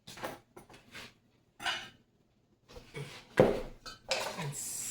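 Metal utensils clink and scrape against a bowl while watermelon salad with mint and basil is stirred, in several short bursts of clatter with brief pauses between them, close and fairly loud.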